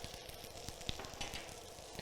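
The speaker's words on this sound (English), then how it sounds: "You want to let that pop and sizzle away" A quiet, steady sizzle of herbs frying in melted butter for cooking turbot, with small crackles and pops scattered through the hiss.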